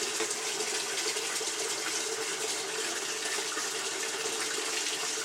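Water runs steadily from a tap into a bucket, making a continuous close hiss and gush that stays loud and even from start to finish, with no voices.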